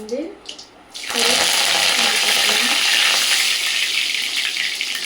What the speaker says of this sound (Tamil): நெக்ஸ்ட்டு வெங்காயம், நல்லா கொஞ்சம் நேரமாக வதங்கணும்